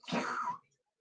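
One short, raspy dog cough, brief and fairly faint, followed by quiet.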